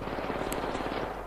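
Rapid automatic gunfire from guns in the co-op shooter Syndicate, a dense, loud, continuous burst of shots with no pause over a brief moment.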